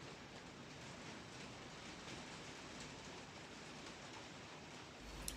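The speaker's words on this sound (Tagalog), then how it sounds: "Ulan. Ang patak ng ulan." Rain falls in an even, continuous hiss at low volume, broadband and unbroken, with a small bump of noise near the end and no voices.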